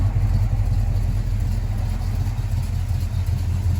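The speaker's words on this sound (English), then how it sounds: "Listen to this thing. Purrs like a kitten." A 1971 Oldsmobile 442 V8 idles steadily up close, a loud, even low rumble with a fast throbbing pulse and no speech.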